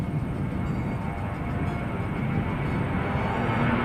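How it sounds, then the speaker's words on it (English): A Jetstar airliner takes off, giving a dense, steady engine rumble and roar that builds slightly over a few seconds, with no voices. "a Jetstar taking off"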